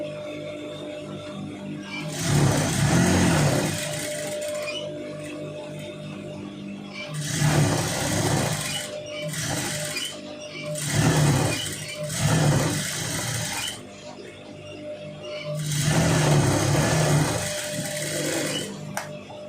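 Sewing machine stitching around a long sleeve, running in several bursts of a few seconds each with short pauses between, a steady close mechanical whirr.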